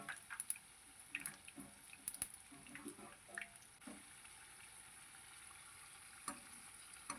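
Chicken legs deep frying in oil over a medium flame, a soft bubbling sizzle with a few sharp pops and utensil clicks early on, quiet and close, with no speech.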